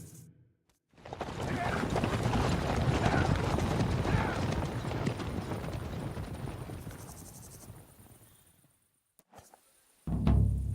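Horse hooves clip-clopping on a road in the video game Kingdom Come: Deliverance 2, a steady dense patter held for about nine seconds under broad wind-like noise before a brief pause and a fresh burst.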